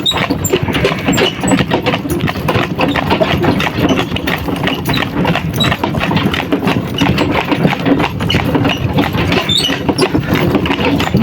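Hooves of a harnessed pair of working horses clop steadily and close up throughout, with an engine-like rumble running underneath.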